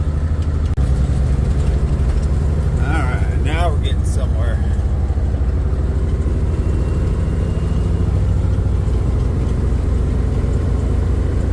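A cold truck engine idles as it warms up, giving a steady low rumble that never changes. Speech cuts in briefly near the start, and a few short chirps rise above the drone.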